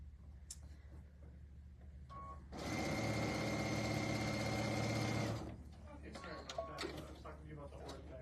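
A sewing machine stitches a quilt block in one steady, loud whirring run of about three seconds, framed by quieter handling noises and fabric shuffling before and after.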